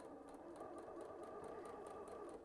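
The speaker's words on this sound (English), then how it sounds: "So I'm gonna do a few slow stitches." A sewing machine stitches fabric for a scrunchie, a steady, continuous mechanical whir with a soft rhythmic needle pulse, close and even throughout with no voices.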